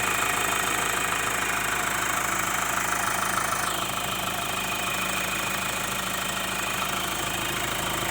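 The 2.0L turbo engine of a Ford Everest 4×4 runs at a steady idle close up, an even mechanical hum with fine ticking and turbo whine throughout, with no talking.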